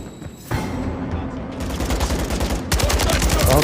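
Light machine gun fire in Call of Duty MW3, played in 4K on PS5: dense rapid bursts of gunfire build into sustained loud automatic shooting, with a voice speaking under it.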